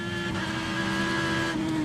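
Onboard audio from Dan Wheldon's IndyCar at the 2010 St. Petersburg street race, a steady engine whine with tonal harmonics just before a suspension failure sends the car into a hard crash, a brief shift near the end as the car brakes.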